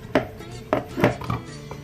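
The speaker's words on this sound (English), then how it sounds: "Now that I'm through chopping the spinach" A knife chops spinach on a cutting board in a home kitchen, making several sharp, close knocks spaced irregularly, with a faint clatter between strokes and no talking.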